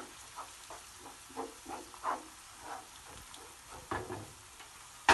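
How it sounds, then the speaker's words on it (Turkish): Onions and tomato paste fry quietly in a pan, a soft steady sizzle broken by occasional stirring scrapes and faint pops, with no voices. "Salçamızı biraz soğanlarımızla birlikte öldürüyoruz."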